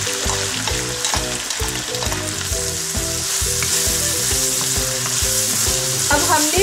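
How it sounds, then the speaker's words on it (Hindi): Chopped onions go into hot oil for karahi kabab masala, giving a loud, dense, continuous sizzle and crackle close up that stays steady for several seconds with no talking. "अब इस ऑयल के अंदर हम प्याज डाल देंगे।"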